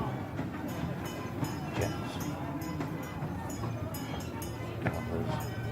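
Fairground train ride running nearby, a steady rumbling with periodic rail clicks and clatter under intermittent talk, at moderate loudness throughout.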